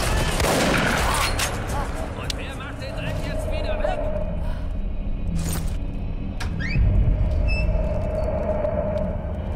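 Enemy machine gun fire in the stealth game Velvet Assassin, rapid bursts of gunfire crackling over a continuous rumble, with a person talking over it.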